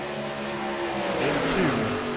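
ARCA race trucks roar around the Las Vegas oval, a loud sustained engine drone with rising and falling pitch as trucks run close together, a slight swell near the end as one passes.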